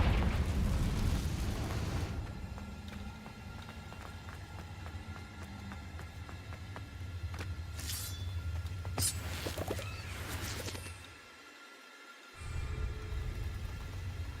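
A Confringo blasting spell in Hogwarts Legacy erupts in a broad, rumbling explosion that sustains for seconds, with sharp crackling bursts near the end and a brief dropout before the din resumes.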